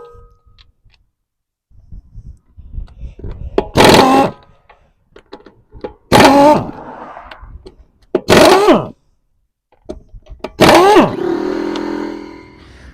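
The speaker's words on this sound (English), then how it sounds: "We're going to remove the tire." An impact wrench spins the lug nuts off a lifted 2014 Chevy Equinox to remove the tire, sounding in four loud, close bursts with quiet handling noises between them.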